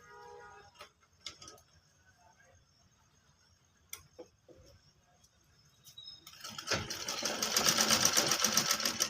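Sewing machine restitching the corner of a kurti, starting after several seconds of quiet clicks and handling taps, then a rapid, steadily whirring stitch run that grows louder to the end.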